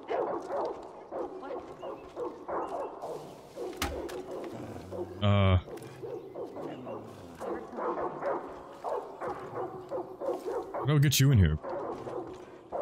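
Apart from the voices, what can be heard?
dogs barking in the video game Far Cry New Dawn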